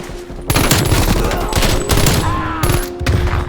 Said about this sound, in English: let's hop into a hardcore freaking Nuketown and see what this pistol can do with diamond camo now